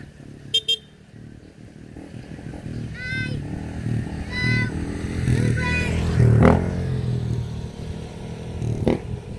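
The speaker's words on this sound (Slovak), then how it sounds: "Deti na motorkách sa tu rozvážajú bez prípy." Motorcycles ridden by children passing along a road in Calatagan, Philippines at sunset, engine noise rising and falling as they go by, with short horn beeps and voices mixed in.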